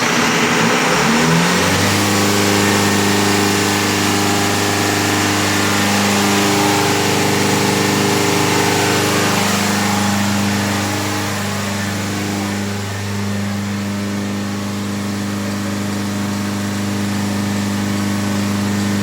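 A Clarke diesel fire pump engine runs loudly and steadily close by after starting up, with a strong, sustained engine drone and no talking.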